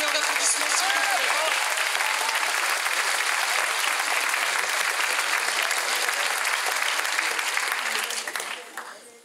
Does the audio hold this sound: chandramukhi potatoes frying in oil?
no